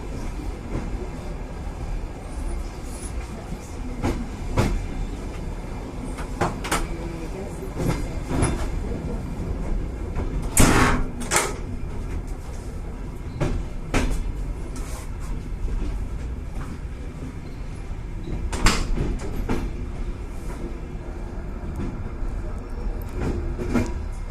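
A long freight train rumbles steadily past with rhythmic clacking wheels and occasional sharp metallic clanks, a low continuous roar throughout, at Berehove station.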